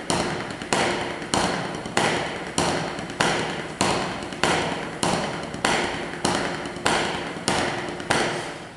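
Snare drum exercise played with a relaxed hand, letting the drumhead's rebound carry the sticks: a steady, evenly spaced series of sharp, loud strokes, about one every 0.6 seconds, each with a short decaying ring, close and alone.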